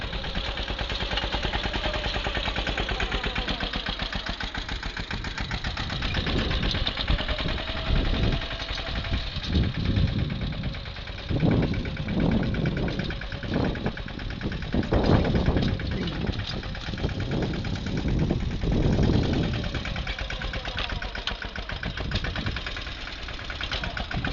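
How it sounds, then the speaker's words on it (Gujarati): A tractor engine chugs steadily up close, its low rumble rising and straining in uneven surges as it pulls a new harrow through a field. "ટ્રેક્ટર કેમ દબાઈ છે કે દાંતી જે હાવ નવે નવી છે"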